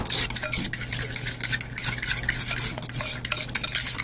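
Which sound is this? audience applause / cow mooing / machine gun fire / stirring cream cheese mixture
stirring cream cheese mixture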